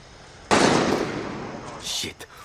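Gunfire in the Far Cry 6 video game bursts in suddenly as a loud, dense crackle that rings on for over a second, followed by a fainter later pop, with no talk over it.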